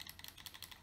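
Buttons on an Xbox One X Project Scorpio Edition controller being pressed: a quick series of crisp, light clicks in an uneven rhythm, close and fairly quiet, with no talk.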